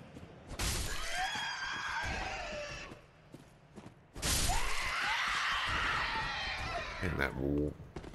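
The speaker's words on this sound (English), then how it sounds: "And that screeching wail." An enemy in the video game Dark Souls III lets out two long, loud screeching wails, each several seconds and harshly shrill, with a brief gap between and a final rattling burst.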